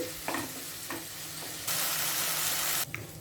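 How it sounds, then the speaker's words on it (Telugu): Chopped tomatoes fry in a pan with ginger and garlic for egg curry, giving a steady crackling sizzle. A few soft stirring scrapes come through, then a louder burst of hissing. No one speaks. "ఇందులో పెద్ద మూడు టమాటోల్ని ఇలా ముక్కలుగా కట్ చేసి వేసుకోవాలి ఇప్పుడు ఈ టమాటోలను కూడా మగ్గనివ్వాలి"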